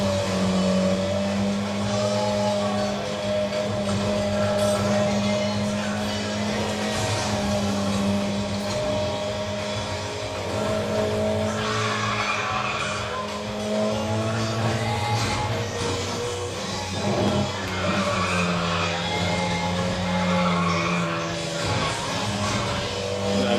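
Car engine revving and skidding in a racing video game played with a Speed Wheel controller, the car spinning out of control; a steady, loud engine drone with shifting pitch runs throughout, under occasional talk.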